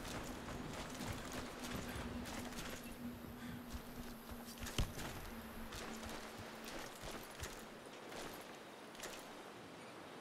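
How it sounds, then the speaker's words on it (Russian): Footsteps in the Warface shooter game, a quiet, rapid series of soft taps and clicks running steadily over a low background hum, with one sharper knock midway. "Шаги-то слышно."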